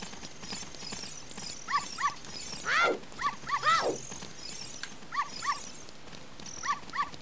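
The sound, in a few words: dog barking in the video game Zelda Ocarina of Time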